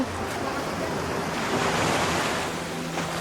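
Ocean waves wash steadily against a beach shore, a continuous broadband roar with some wind noise on the microphone.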